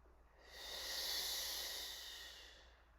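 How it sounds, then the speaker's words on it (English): A single slow, deep breath during a stretching workout, an airy hiss that swells and fades over a few seconds, close and fairly quiet. "let's take 4 deep breaths"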